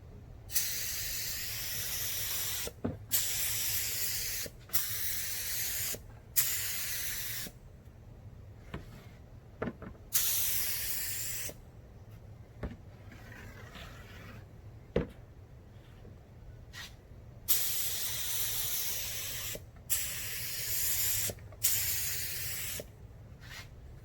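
Spray paint goes on as a second coat over Mandalorian Beskar costume armor: repeated hissing bursts of aerosol, each lasting a second or several, separated by short pauses, close and fairly loud.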